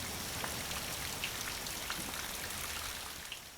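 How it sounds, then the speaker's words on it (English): Heavy torrential rain of the wet-season thunderstorms pours down steadily and densely, a continuous loud wash with scattered close drop impacts throughout. "The wet season arrives at the beginning of summer, often with fierce thunderstorms and torrential rains."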